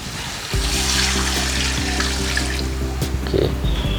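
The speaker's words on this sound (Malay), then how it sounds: "So seterusnya kita masukkan air." Water poured from a tap into a cooking pot holding lamb shanks, a steady rushing stream beginning after a moment and running continuously with small splashes and clinks.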